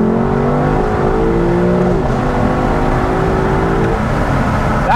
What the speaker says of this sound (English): And the nice blips on the downshift.